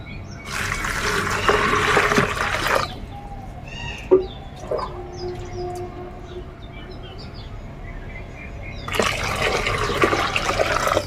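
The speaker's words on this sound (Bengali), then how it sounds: "এতে দু লিটার জল দেবো" Two litres of water poured into a bucket of vegetable peels to make liquid plant fertilizer: a loud, steady gush for a few seconds, a quieter stretch with small clinks, then another strong pour near the end.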